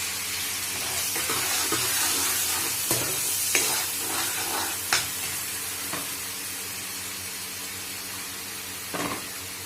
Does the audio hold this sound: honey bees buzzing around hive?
no